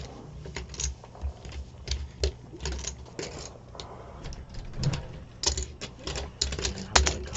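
Playing cards shuffled and stripped at a poker table in a no-limit hold'em cash game, a busy run of riffling, flicking and clicking bursts close by over a low room murmur.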